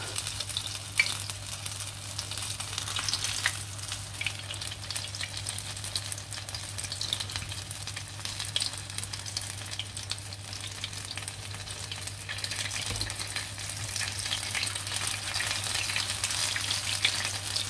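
Potato and cheese galettes fry in hot oil with a steady, close crackling sizzle that continues throughout, over a low constant hum and with no talking.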